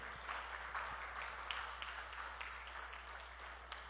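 Congregation in a church clapping, a faint, steady patter of many hands heard from a distance, continuing without pause.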